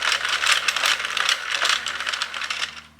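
A Sentro knitting machine is cranked by hand, giving a continuous close clicking, ratcheting rattle that fades slightly at the end.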